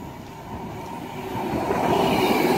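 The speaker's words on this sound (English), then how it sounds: "passing through now is going to be a Pendolino from Glasgow to London" A Pendolino express from Glasgow to London runs through Carstairs on the West Coast Main Line, its steady rail rumble swelling louder as it draws closer and passes.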